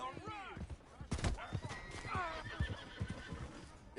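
A horse in the Red Dead video game whinnies loudly with a wavering neigh, followed by a quick series of clip-clopping hoofbeats, with a voice speaking over parts of it.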